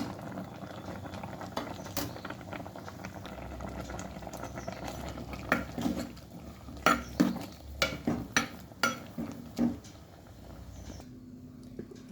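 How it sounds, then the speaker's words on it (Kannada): Onion added to a cucumber curry simmering in a pot: a steady low bubbling bed, then a run of sharp clicks and taps as pieces drop in and a spoon knocks the pot, with no talk. "ಇವಾಗ ನಾನು ಒಂದು ಈರುಳ್ಳಿಯನ್ನು ಹಾಕ್ಕೊಳ್ತಾ ಇದ್ದೇನೆ"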